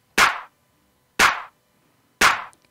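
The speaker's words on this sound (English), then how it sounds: "We should be left with the clap." A clap drum sample exported from Maschine 2 plays three times alone, each a sharp, bright, dry hit about a second apart with silence between.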